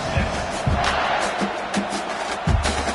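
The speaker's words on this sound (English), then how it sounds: "this crowd is buzzing after that last score" Stadium crowd in an American football video game, a steady broadband roar with a few low thumps, carrying on continuously at moderate loudness after a touchdown.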